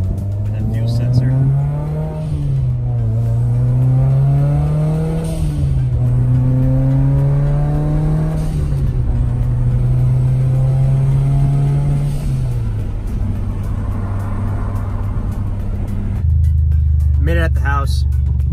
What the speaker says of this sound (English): Car's driving amazing with that new sensor.